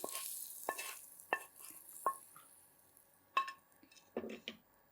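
Tempered mustard seeds and asafoetida stirred into a cucumber pachadi, giving soft scraping and a few sharp spoon clinks against the vessel, with faint sizzle in the background.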